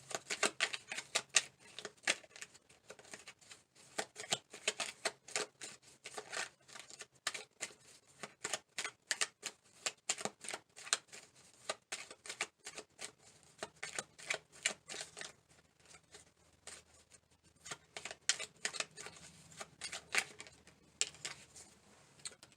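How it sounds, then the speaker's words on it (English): Tarot message cards being shuffled and pulled, a dense run of quick papery riffling clicks and flicks that rises and falls in bursts across the whole stretch, close and fairly quiet, with no talking. "let's pull a few message cards here for Pisces"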